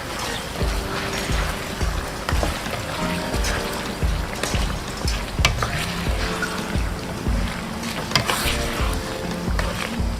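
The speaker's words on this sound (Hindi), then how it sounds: "1 टेबल स्पून जिंजर गार्लिक का पेस्ट इसमें ऐड कर रहा हूँ। अच्छी तरह से हिला लें।" Ginger garlic paste being stirred into hot oil in a pan for Afghani chicken, with a steady close sizzle and frequent scraping and clinking of a spoon against the pan; no talking.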